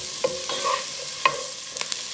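Chopped onion softening in a pan for roasted bell pepper soup, with a few stirring scrapes and taps over a low, steady sizzle, close and fairly quiet.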